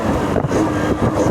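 A motorcycle engine accelerating in first gear, a steady close-up drone with slight rises in pitch over a brief stretch.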